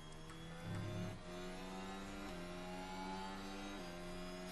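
A steady, distant engine drone from an F1 car on the straight in F1 Manager 2023, with a brief swell in pitch as the car passes. The tone holds evenly and is fairly faint.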